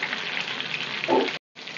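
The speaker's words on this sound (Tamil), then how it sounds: "தேங்காய் எண்ணெய் அந்த கருவேப்பிலை போட்டு வறுக்கிறது அவ்வளோ ஒரு வாசனை" Curry leaves fry in coconut oil with a steady bright sizzle, close and continuous, briefly cut by a short gap of silence near the end.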